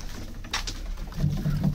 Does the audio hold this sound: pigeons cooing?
yes